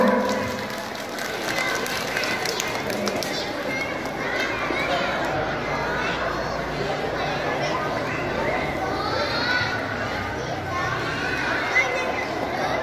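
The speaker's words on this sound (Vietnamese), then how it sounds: "tuyên dương vỗ tay bạn" A group of children in a school traffic-safety lesson clap for a classmate, a steady wash of scattered applause mixed with lively chatter and kids' voices throughout, moderately loud and continuous.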